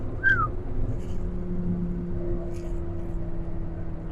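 A car engine runs under full throttle at about 2,500 RPM in third gear, a steady low droning hum heard from inside the car. It stays at an even level throughout, with a faint high chirp near the start.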